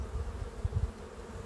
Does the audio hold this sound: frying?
no